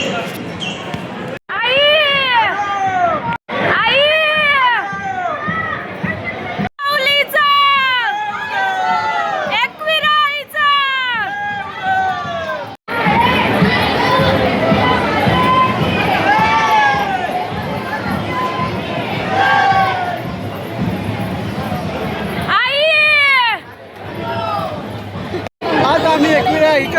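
A large, noisy crowd packs Ekvira temple for darshan, a dense wash of chatter, children's shouts and footsteps filling the whole stretch, with clearer nearby voices speaking loudly in bursts during the opening seconds.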